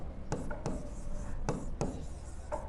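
Numbers are handwritten for a math lesson, giving several soft, quick pen-on-paper scratches at irregular intervals over a faint hum, with no talking.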